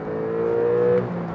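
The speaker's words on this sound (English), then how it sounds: "with the sports exhaust, as you can hear, it's pretty noisy inside" A 2015 Porsche 911 Cabriolet's turbocharged engine hums through its sports exhaust as heard from inside the cabin, a steady droning tone rising slightly in pitch before easing off.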